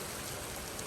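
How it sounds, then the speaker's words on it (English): Rain falls on an evening garden as a dense, steady hiss of drops, close and even, with no voices over it. "it is raining."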